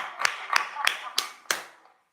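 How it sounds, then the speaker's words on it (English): An audience at a political gathering responds to a call to clap for the House Speaker with about five distinct, separated claps that ring briefly and then fade into silence. "Give him a clap."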